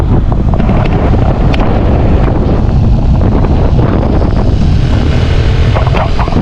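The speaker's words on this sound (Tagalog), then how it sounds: "Lakas ng hangin." Strong wind buffets the microphone with a constant, loud rumbling roar and no break throughout.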